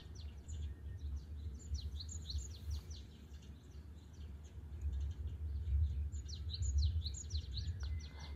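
Several birds chirp and sing in quick, high twittering bursts at a resort in Da Lat in the morning, fairly distant, over a low steady rumble of background hum.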